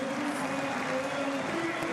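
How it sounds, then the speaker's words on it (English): Continuous crowd applause and murmur from a large audience at a basketball game at halftime, steady and somewhat distant. "The crowd applauds."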